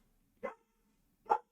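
A dog barks twice indoors, two short separate barks about a second apart, moderately loud with silence between.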